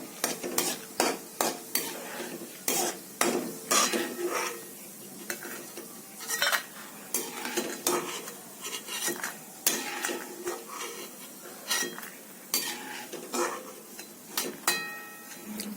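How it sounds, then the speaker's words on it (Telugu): Nuts fry in a pan for apple halwa while a spoon stirs them, giving repeated close scraping and clinking strokes over a soft sizzle, with no talking. "ఇవి పప్పులు ఒక నిమిషంలో వేగిపోతాయి"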